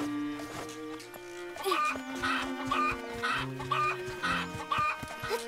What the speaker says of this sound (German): Da ist noch ein Huhn.